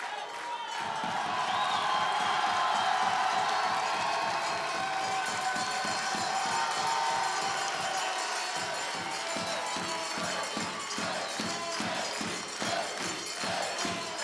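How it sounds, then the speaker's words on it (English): A crowd chants a chef's name in rhythmic bursts at the Bocuse d'Or cooking competition, loud and sustained, with cheering and clapping mixed in throughout. "And you hear the crowd chanting Régie, Régie."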